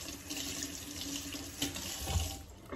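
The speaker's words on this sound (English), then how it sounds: "So I'm gonna wet my hands." Running tap water splashing over hands in a kitchen sink while meatballs are prepared, a steady close hiss of flowing water with small splashes and no voices.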